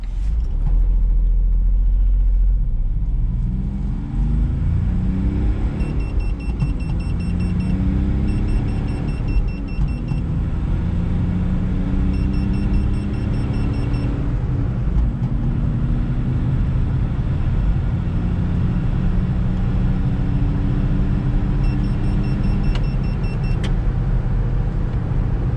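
A Smart Fortwo CDI diesel car accelerates in automatic mode, with a steady low engine rumble that swells through several gear changes over about 25 seconds, heard from inside the car.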